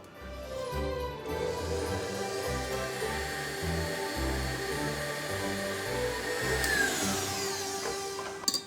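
Electric hand mixer beating egg yolks with sugar for a Yule log, a steady whirring drone with a rhythmic pulsing as the beaters move through the bowl, close and unbroken, with a brief clatter at the end.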